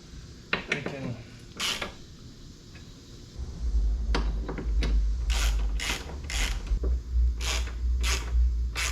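Wrench tightening bolts on a Ford Bronco spare tire carrier, with a series of sharp metallic ratcheting clicks over a steady low rumble, close and fairly loud.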